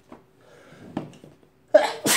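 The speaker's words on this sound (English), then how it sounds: "A vlog full of sneezes and sneezes just for you." A person with a cold sneezes, giving two sharp bursts close together near the end after some quiet breathing sounds.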